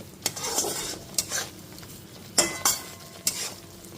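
A spoon scrapes and stirs spice paste in a hot pan for a vegetarian soybean curry, with several sharp clinks and scrapes over a faint sizzle, close and fairly loud, no talk.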